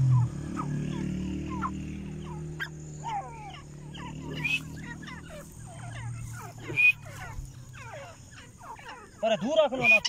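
Grey francolin, the female teetar bird, gives repeated rising calls over several seconds, with more voices building near the end, heard outdoors over a steady low rumble and some background noise.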